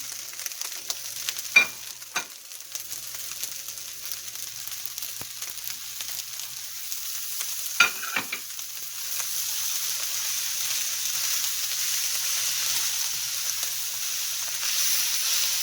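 Carrots and peas hit the hot pan for pork and shrimp fried rice, setting off a steady close sizzle. A few sharp scrapes of a stirring utensil come through early, then the frying hiss swells and holds with no talking.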